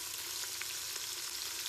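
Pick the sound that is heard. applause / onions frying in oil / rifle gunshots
onions frying in oil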